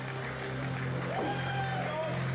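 Steady wash of crowd applause and noise fills a wrestling arena after a match between Josh Alexander and TJP, continuous and moderately distant, with faint tonal sounds drifting over it.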